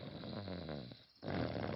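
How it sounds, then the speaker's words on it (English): Loud, close snoring from a sleeping pig in a tent on a wet camping trip in a cartoon, with a steady rasping breath that breaks off briefly and then resumes. "What's that sound? It sounds like snoring."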